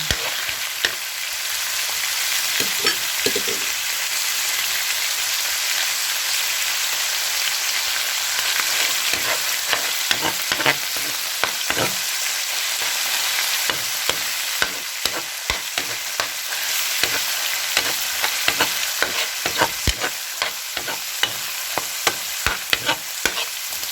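Garlic fries in a pan with a loud continuous sizzle broken by frequent sharp scraping and clinking as it is stirred, close up with no talking.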